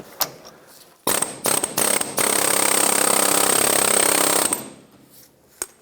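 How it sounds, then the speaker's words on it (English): A pneumatic air hammer rattles against a seized control arm bolt on a 1996-2002 Toyota 4Runner in a few short bursts, then runs in one loud sustained hammering stretch for about two seconds before stopping. "we'll give this a couple taps with the air hammer"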